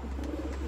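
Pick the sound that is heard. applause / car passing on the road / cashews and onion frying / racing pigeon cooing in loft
racing pigeon cooing in loft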